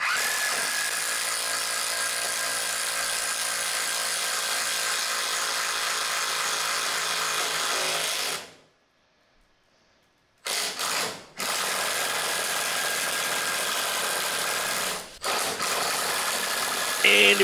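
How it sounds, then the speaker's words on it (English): A loud, steady mechanical ratcheting drone from an impact wrench driving a 1.5-inch bit to drill a hole for PEX plumbing runs continuously, cuts out for about two seconds, then resumes with brief stops. "this is an impact wrench that I'm using to drill this hole"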